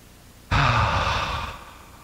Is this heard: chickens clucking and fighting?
no